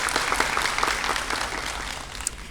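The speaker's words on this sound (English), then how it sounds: "Let us applaud Sarah Eagle for her outstanding achievements and boundless potential" An audience at a summer academy graduation ceremony bursts into loud, close applause, many hands clapping steadily throughout before fading slightly at the end.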